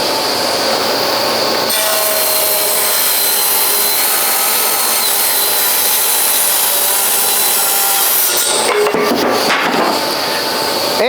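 Power saw ripping a wooden board down the middle: loud, steady whining cut that runs for about seven seconds, then spins down with clattering as the board comes free.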